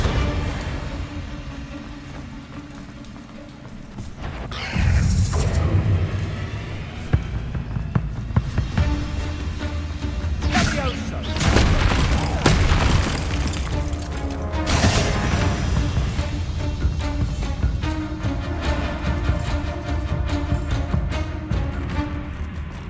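A Bombarda spell explosion in the Hogwarts Legacy video game: loud crashing blasts land in a few separate bursts over a steady background of game noise and music, with no one talking.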